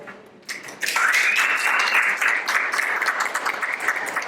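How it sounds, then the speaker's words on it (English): Audience applause at a comedy hypnotist's stage show breaks out after a short quiet start and grows into loud, dense clapping that fills the rest of the clip, with a thin whistle-like tone rising over it. "the more you applaud, the deeper they go"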